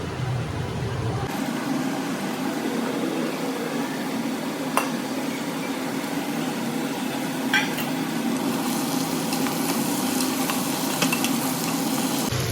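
Jackfruit pieces fry and get stirred in a pan for a jackfruit curry, giving a steady close sizzle with occasional scraping clicks of the spoon, no voices over it.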